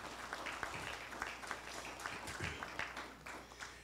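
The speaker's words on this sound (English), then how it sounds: "Please give them a rousing round of applause as well." Applause at a Veterans Day ceremony honoring leaders: a fairly faint, scattered round of clapping from a crowd, with a few sharper individual claps standing out over the steady patter.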